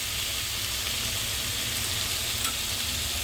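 Coriander powder is stirred into a cauliflower curry in a pan, with a steady close sizzle and soft scraping that carry on without a break and without any talk.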